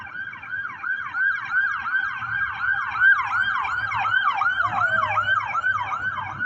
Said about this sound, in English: Take a look at that ambulance there.